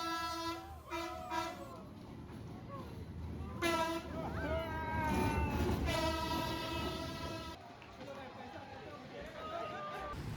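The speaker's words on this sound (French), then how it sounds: "Le train passe littéralement à 20 cm des touristes" A train rolls through a narrow street in Hanoi's old quarter, its horn sounding repeatedly in long toots over a rumbling, clattering passage, close by with people talking nearby.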